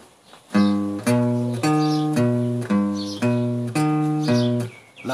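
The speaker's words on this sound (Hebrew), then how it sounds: "לה מינור נשמע ככה." A minor chord on guitar, strummed in a steady rhythm of six or so bright, ringing strokes, each decaying slightly before the next, close and clear with no talking.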